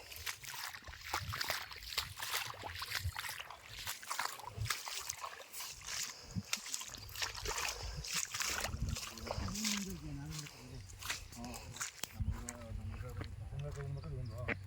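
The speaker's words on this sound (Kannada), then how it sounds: "ಈ ನೀರಂದರೆ ಪಕ್ಕದ ಗದ್ದೆಯವರು ನೀರು ಕಟ್ಟಿದ್ರು, ಅಲ್ಲಿ ಎಕ್ಸ್ಟ್ರಾ ನೀರು ಹರ್ಕೊಂಡು ಹೋಗ್ತಾಯಿದೆ." Surplus irrigation water from a neighbouring paddy field runs and trickles steadily through a coconut garden channel, a continuous wash of flowing water under someone talking throughout.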